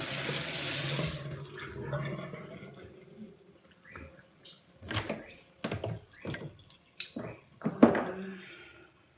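Water runs from a bathroom tap while someone washes their face, beginning as a steady rush and then breaking into a string of close splashes and drips.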